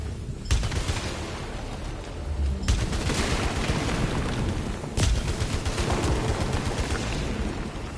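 Sustained video game gunfire from Returnal on PS5, with dense, loud bursts of shots that surge at about half a second, near three seconds and at five seconds, with no talking over them.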